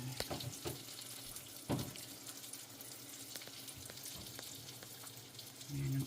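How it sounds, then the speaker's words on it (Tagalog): Large strips of breakfast bacon frying in a pan, a soft, quiet sizzle with intermittent crackles and a few sharper pops, fairly faint throughout. "Luluto ako ng bacon. Malalaking bacon."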